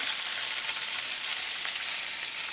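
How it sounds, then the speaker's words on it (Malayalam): Bell pepper (capsicum) with a pinch of salt sautéing in oil, a dense, loud, unbroken hiss of frying with no voices. "ഇതിലേക്ക് ഇനി നമുക്ക് ക്യാപ്സിക്കം ഇടാം ഒരു സ്വൽപ്പ് ഉപ്പും കൂടി ഇട്ട് കൊടുക്കണം ഇത് എണ്ണയ്ക്കകത്തൊന്ന് വഴറ്റിയെടുക്കണം"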